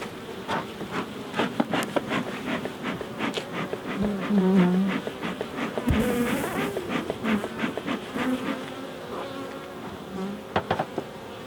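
Honeybees buzz steadily at an open hive during Apistan and Apiguard mite treatment, a dense close swarm hum with individual bees flying past near the microphone, swelling briefly in the middle, with no talking.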